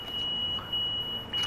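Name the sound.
beep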